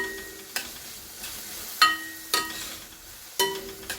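Ginger garlic paste fries with onions in a pan, a soft sizzle broken by five sharp metallic clinks of a utensil scraping and stirring at irregular intervals.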